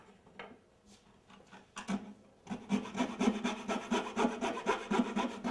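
A coping saw cuts along the line of a back-mitered wood moulding, starting with a few tentative strokes and then settling into quick, steady, rasping back-and-forth strokes, close and fairly quiet.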